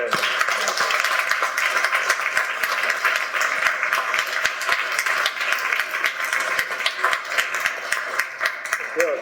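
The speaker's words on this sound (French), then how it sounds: "encore une bonne main d'applaudissement de une vraie pour ces jeunes" A church congregation at a parish Mass applauds young readers, dense, sustained clapping from many hands filling the room at steady loudness throughout.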